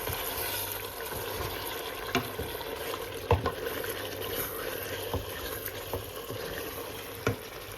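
Chicken with chana dal and masala is stirred and fried in a pan, giving a steady close sizzle with occasional sharp knocks and scrapes of the spoon against the pot.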